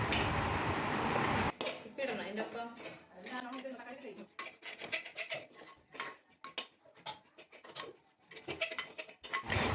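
Chili and coriander powder masala stirred in a pan for a chicken parts curry: a metal spoon scrapes and clinks against the pan in quick irregular strokes, close and clear, after a brief burst of frying at the start.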